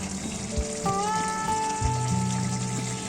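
Potato curry (aloo dum) sizzles in a pan after garam masala powder goes in, a soft continuous frying hiss under faint steady tones and a few low thumps from the cookware.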